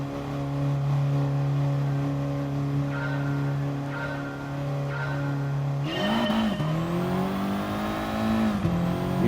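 An Audi TT race car in Gran Turismo Sport at Sardegna holds a steady droning engine note on the grid, then revs and accelerates hard with rising pitch sweeps as the race gets underway.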